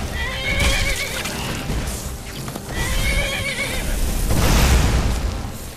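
A horse in the Skyrim video game whinnies loudly twice, with clip-clopping hooves and a heavy thud in between, all close and without talk.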